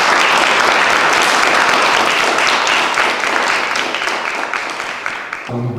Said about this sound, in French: Applaudissements à nos trois invités.